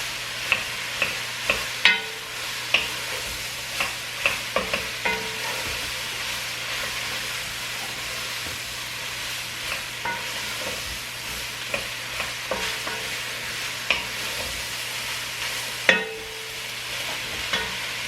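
A spoon scrapes and stirs braising chicken in a pot, lifting browned bits from the bottom, with regular knocking strokes over a constant sizzle, close and free of speech.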